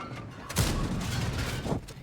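A tank's main gun fires a single booming shot in an armored combat video game, a broad blast with a rumbling tail, followed by a second softer report near the end.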